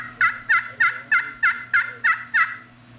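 An aluminum-over-slate turkey pot call, double-sided and custom-made, sounds a run of eight evenly spaced, loud, raspy yelps close up, each a sharp two-note rasp, with a brief quiet pause at the end.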